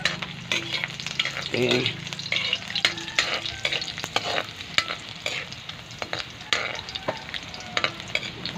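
Garlic frying in hot oil in a pan, with a steady sizzle under repeated scraping strokes of a spoon stirring it, and a brief spoken word partway through.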